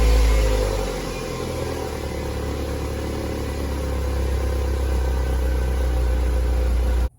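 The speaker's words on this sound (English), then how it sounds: "let's give it a cold start and see what the old stock exhaust sounds like." A BMW Z3 on its stock exhaust fires up from cold with a loud initial burst, then settles into a steady, deep idle that runs close and unbroken before cutting off abruptly.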